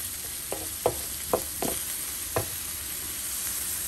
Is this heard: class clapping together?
no